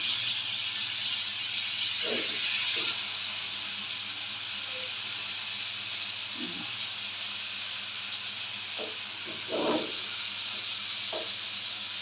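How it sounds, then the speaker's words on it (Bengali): Three pieces of rohu fish fry in a pan with a steady, even hiss of hot oil, broken by a few soft clinks and knocks from the kitchen. "তিন পিস মাছও ভেজে নিতেছি রুই মাছ"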